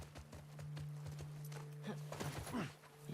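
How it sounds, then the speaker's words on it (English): Horses' hooves clip-clop in the video game The Last of Us Part 2, a run of uneven near hoofbeats with a brief whinny or snort under a steady low game hum. "We're gonna have to leave the horses here."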